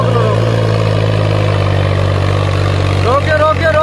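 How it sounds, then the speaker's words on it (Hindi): A Solis tractor engine runs close and loud with a steady low drone, and voices talk over it near the end. "रेस बंद कर लो, बंद ही कर दो ट्रैक्टर को।"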